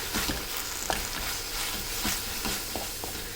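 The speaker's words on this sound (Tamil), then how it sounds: "சேர்த்துட்டு இதையும் நல்லா வதக்கிக்கலாம்." Masala powder and tomato sautéing in a pan for a village-style dry fish curry, a steady close sizzle broken by several sharp scrapes and clinks of a stirring spoon.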